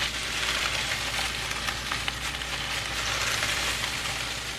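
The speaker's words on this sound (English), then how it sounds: "I just let that saute quickly" Food sautés in a pan with pink Himalayan salt, making a dense, continuous crackling sizzle that is close and fairly loud for the whole stretch.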